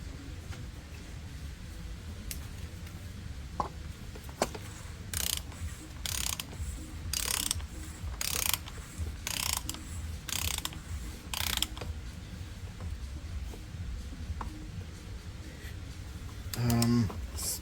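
Ratchet wrench tightening the oil filter housing on a Mercedes GLC300 X253, heard as several bursts of quick metallic clicking strokes in a row, close up over a steady background hum.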